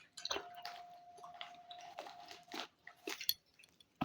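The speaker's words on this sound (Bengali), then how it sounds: "আমরা এখন রাত্রিবেলা কেক খাচ্ছি।" Someone chews cake close up at a late-night celebration, around half past midnight, with soft, irregular crunching and squishing bites spaced across a quiet background.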